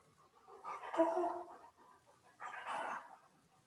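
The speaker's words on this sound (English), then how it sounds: "My dog. Can you all hear him breathing?" A dog pants and breathes heavily in two short, breathy bursts close to the mic, with a quiet pause between them.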